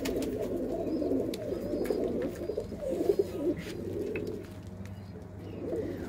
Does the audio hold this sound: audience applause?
no